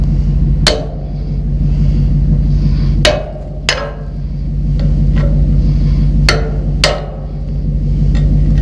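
A hammer strikes sharply around seven times at uneven intervals during work on trailer tail light wiring, loud and close over a steady low engine-like hum.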